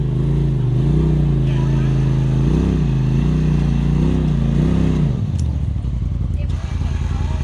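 An off-road vehicle on a trail roars loudly and close as its engine revs in rising and falling surges, then drops away toward idle with some clatter.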